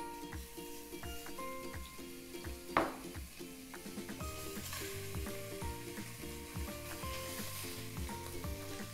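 Pork rind rolls and a rib sizzle and fry in fat in a pan, a close crackling hiss with a sharp clink against the pan midway and rhythmic stirring scrapes throughout.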